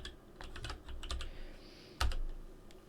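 Computer keyboard keys tapped in short bursts of clicks, one louder keystroke near the end, close and alone with no talk.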